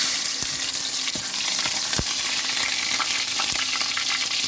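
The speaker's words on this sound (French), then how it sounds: "Mettons nos oignons." Onions frying in a pan produce a constant close sizzle and hiss, dotted with sharp pops and occasional scraping taps.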